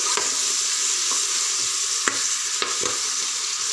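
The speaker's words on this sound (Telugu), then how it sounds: "అల్లం వెల్లిపాయ పేస్ట్ పచ్చి వాసన పోయేదాకా ఫ్రై చేయాలి" Ginger garlic paste fries in a pan for mutton curry, giving a steady close hiss and sizzle with a few soft scrapes from stirring.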